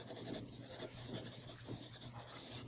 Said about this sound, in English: I would maybe write my name here as well